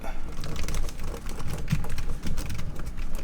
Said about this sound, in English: All the keys are pushing back up when I push on them.